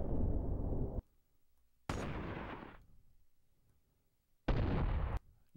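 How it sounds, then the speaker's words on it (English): Three separate gunshot blasts, each a sharp loud crack with a booming body; the second trails off in a long decaying tail, with brief silences between shots. A gunshot sound effect built from layered sounds. "So those five sounds make up the gunshot sound."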